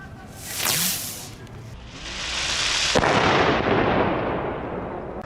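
Small retro butterfly fireworks with a bang going off outdoors: a sharp whooshing launch, then a loud crack near three seconds followed by a long crackling, hissing burn that slowly fades.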